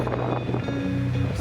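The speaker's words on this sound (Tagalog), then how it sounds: "Pagising namin, sobrang lakas ng hangin" Strong early-morning wind at an abandoned chromite mining site in Zambales buffets the microphone in a dense, continuous rush, with a low steady rumble underneath.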